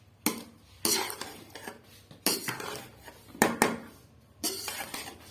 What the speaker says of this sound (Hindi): थोड़ा इनको करते हैं मिक्स, चावलों को